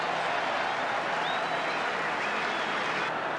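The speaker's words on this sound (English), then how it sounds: "The crowd's happy." Rugby stadium crowd at a World Cup match roaring and applauding, a dense, steady wash of cheering and clapping filling the whole stretch at full volume, with faint commentary beneath it.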